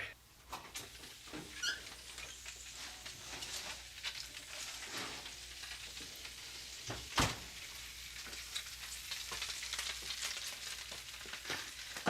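Steady crackling sizzle of bacon frying, broadband and continuous with small pops and spits, close up, no talking.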